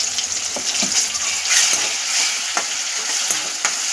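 Ginger garlic paste frying in a pan while making paneer handi: a loud, continuous close sizzle with stirring scrapes and small crackles throughout, no voices.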